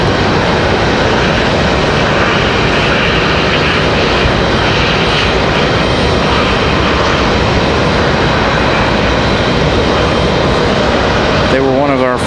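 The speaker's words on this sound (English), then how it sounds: "Got a 737 touching down for American Airlines." An American Airlines Boeing 737 touches down at Raleigh-Durham International Airport, with a steady, loud broadband jet roar filling the whole stretch and holding constant throughout, without distinct peaks.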